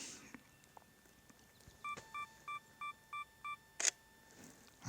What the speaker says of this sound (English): I've got the self timer on.